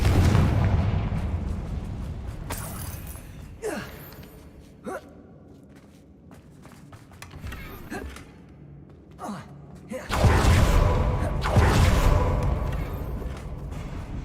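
Fire-spell explosions and combat effects burst through a busy Hogwarts Legacy battle against Ranrock loyalists, with a dense roaring wash, several sharp blasts and a loud surge near the end.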